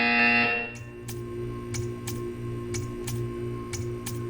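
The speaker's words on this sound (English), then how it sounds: "When you hear the buzzer, stare at the art." A buzzer sounds in a Portal 2 test chamber: a loud tonal buzz fades quickly, then a steady low hum runs under evenly spaced soft ticking pulses.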